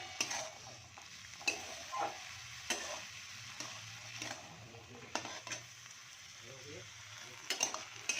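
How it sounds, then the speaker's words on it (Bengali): Chickpeas and potatoes stir-frying in a pan give a steady soft sizzle, with a series of scraping, clinking stirs recurring every second or so, close and moderately quiet, with no voices. "এবার আমি এটা ভালো করে একটু নাড়িয়ে ফেলিয়ে নেব নাড়িয়ে ছাড়িয়ে নিয়ে একটু সুন্দর করে ভাজা ভাজা করব"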